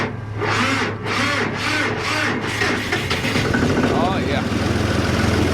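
A John Deere 5055E tractor with a weakening battery cranking in cold weather, a rhythmic series of loud starter churns for about two seconds before the engine catches and settles into a steady running rumble, with someone briefly speaking.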